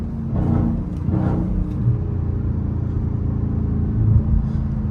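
Dodge Hellcat driving through the city, heard from inside as a low, steady engine rumble with a couple of brief louder swells, no music or talk.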